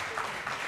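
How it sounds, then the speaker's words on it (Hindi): A brief, steady patter of audience clapping at a university cultural event, heard for under a second at an even level. "आप लोगों की तालियों से"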